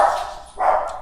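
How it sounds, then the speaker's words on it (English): Dogs give two quick sharp barks reacting to a noise at the door, close and fairly loud, with no talking. "My dogs heard something at the door."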